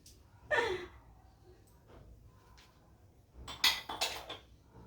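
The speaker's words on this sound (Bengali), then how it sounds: "মেয়ে আবার এসে গেছে জানলা দিয়ে কাপ দিতে" Teacup handed back through a window at home, two clinking bursts of ceramic knocking against a hard surface, one early and a louder pair near the end, with faint breaths between.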